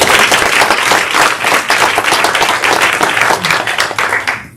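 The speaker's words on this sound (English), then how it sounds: "Let's give a round of applause" Close, loud applause from an audience at a public speaking workshop, with brisk continuous clapping that holds for several seconds before cutting off.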